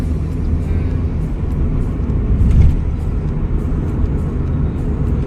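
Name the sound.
car being driven in traffic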